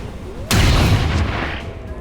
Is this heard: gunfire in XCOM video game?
yes